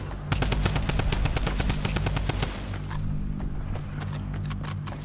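Fast, evenly spaced automatic gunfire in Fortnite Battle Royale, a loud rattling burst for about two seconds followed by sparser scattered shots, with no talking.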